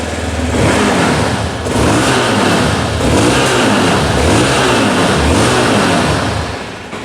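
A Hero Xpulse 200 4V motorcycle engine, loud and close, runs with repeated throttle blips that swell and fall in a steady cycle of revs for several seconds, with no voices.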